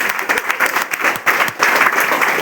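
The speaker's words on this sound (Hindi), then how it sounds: "यहाँ पे ताली जोरदार वाली बजा दें।" An audience at a business seminar in a hall breaks into loud, dense applause, many hands clapping steadily throughout, with a faint voice underneath.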